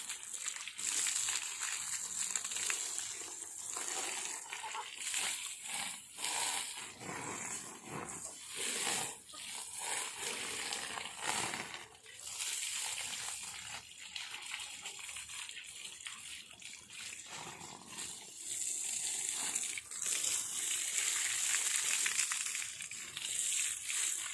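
Water splashes and runs while a dairy cow is bathed, the runoff flowing on to fodder crops; quiet, uneven splashing and trickling continues throughout.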